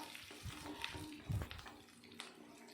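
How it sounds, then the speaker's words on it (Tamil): Tamarind solution boils in a pan, heard as a soft, steady bubbling and sizzling hiss with small pops and a faint clink partway through, quiet and close, with no talk. "இப்போது இந்த புளி கரைசல் நல்லா கொதித்து வரட்டும்"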